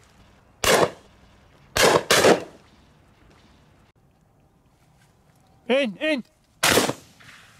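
Shotgun blasts from a team of Swiss hunters duck shooting in the UK: four sharp, loud reports in an irregular sequence, two in quick succession, with a duck call quacking between them.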